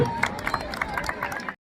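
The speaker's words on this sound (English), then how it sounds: "Round of applause for Navjot Singh also" Brief applause for an athlete at a school annual athletics meet, a crowd of hands clapping outdoors with chatter mixed in, stopping abruptly after about a second and a half.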